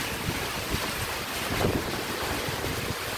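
Rain and wind sweep through a storm in the Brazilian sertão, a dense, steady roar of rushing air and falling water with gusting wind buffeting the microphone.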